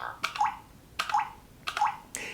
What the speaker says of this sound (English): And it sounds kind of like a water drop.